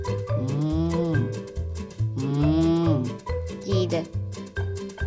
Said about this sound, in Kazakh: Бұл түйе.